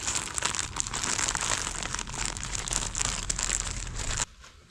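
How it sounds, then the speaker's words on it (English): French toast batter is squished and mixed inside a plastic bag, a continuous close crinkling and rustling of plastic that stops abruptly near the end. "Easiest way to mix it, just in the bag."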